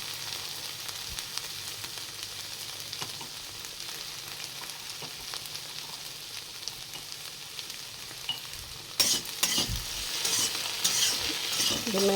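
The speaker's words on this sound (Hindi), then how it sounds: "यहाँ पे भिंडी और प्याज की भुजिया बना रही हूँ मैं।" Okra and onion bhujia fries in a pan with a constant sizzle. Scraping stirring strokes grow louder and busier toward the end.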